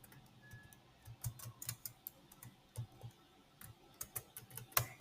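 Computer keyboard keys clatter in a steady run of sharp, close clicks of varying loudness as a shortcut is typed during an Excel spreadsheet lesson, with no talking.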